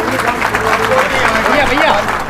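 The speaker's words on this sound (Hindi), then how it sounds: "एक बार ताली बजाएं" A crowd at a Bhim Army political gathering claps in sustained applause, close and loud, with voices and babble mixed in beneath the clapping throughout.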